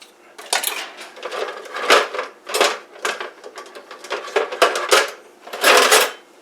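A big spoon is fetched from a kitchen drawer, with cutlery and dishes clattering in a quick run of sharp clanks and scrapes, close and fairly loud, while a country breakfast bake is mixed in a big bowl.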